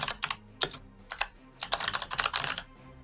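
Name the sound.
typing on a computer keyboard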